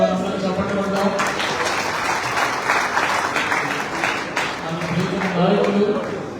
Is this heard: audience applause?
yes